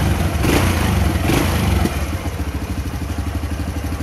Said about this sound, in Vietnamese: Đây là tiếng động cơ lúc hoạt động các bạn,